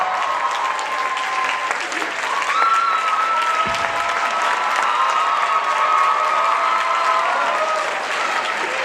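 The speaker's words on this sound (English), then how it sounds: "Give a warm round of applause." Convention crowd at an anime convention's opening ceremony breaks into sustained applause and cheering for the chairman, a broad roar of clapping with whistles and shouts, plus a brief voice or thump in the middle.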